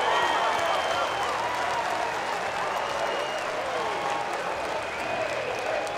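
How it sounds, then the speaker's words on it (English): Steady, dense roar from a baseball stadium crowd cheering after a hit in a Miami vs Florida State college game, with applause and whistles. It stays loud the whole time, and a commentator's voice runs underneath. "Heard the crowd, that's all you need to hear."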